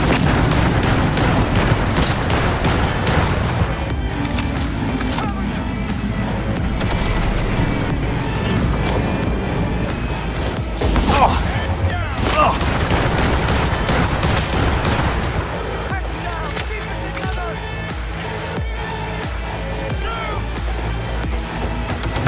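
Sustained assault rifle fire in Cyberpunk 2077 during an ending boss fight, dense rapid bursts and explosions filling the whole stretch loudly and continuously, with game effects layered over it.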